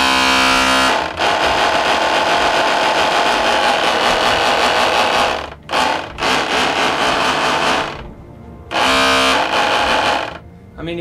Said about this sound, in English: it does make a chainsaw noise